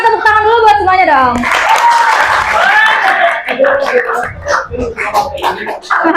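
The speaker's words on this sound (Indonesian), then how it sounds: "Kita tepuk tangan dulu buat semuanya dong." High school students in a sociology class clap for everyone after a quiz competition. The applause is brief and scattered under lively young voices and chatter.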